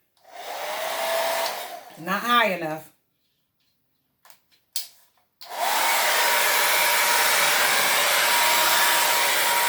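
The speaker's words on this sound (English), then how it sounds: "I'm just going to do all of these with the blow dryer tonight." A handheld blow dryer roars while drying acrylic pour paint on ceramic tile coasters, cutting off briefly for a few clicks and a short spoken remark before starting up again, loud and steady.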